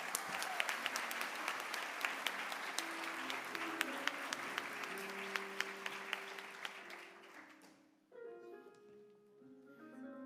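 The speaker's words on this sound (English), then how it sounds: "So give them a big round of applause." Applause from the audience at a Doctor of Physical Therapy commitment ceremony for the class of 2024, sustained crowd clapping with sharp individual claps that fades out near the end as music or tones take over.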